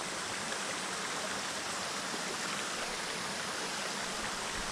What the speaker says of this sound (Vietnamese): Mình phải băng qua cái đoạn con suối này.